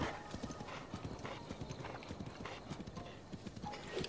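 Hooves clip-clop in a steady, fairly quick rhythm, a horse trotting along in the video game The Legend of Zelda: Breath of the Wild, with a soft ambient background and faint talk.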